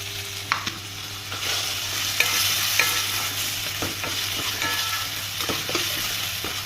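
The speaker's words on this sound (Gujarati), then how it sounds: "થોડી વાર માટે ચડવા દઈશું ટમેટા એડ કરીને" Tomatoes with green masala cooking in a pan, steady close sizzling with frequent scraping clicks of a spoon stirring against the pan, with no talk.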